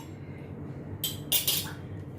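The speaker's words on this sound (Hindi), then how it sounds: "लेमन जूस डालती हूँ, थोड़ा 2-3 ड्रॉप्स। अच्छी तरह से मैं मिक्स करती हूँ।" Chana chaat being mixed with a few drops of lemon juice, a quiet kitchen background broken by two brief metallic clinks of a spoon against a bowl.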